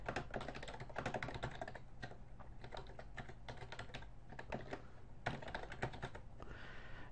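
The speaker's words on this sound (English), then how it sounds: "So again, I'm just going to type in some bogus information here." Continuous typing on a computer keyboard, close and clear, with rapid uneven bursts of clicks and occasional louder key strikes over about seven seconds, no voices.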